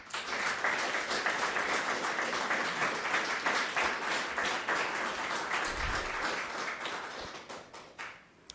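An audience applauds at a town board meeting with sustained, dense clapping from many people for several seconds that thins out toward the end.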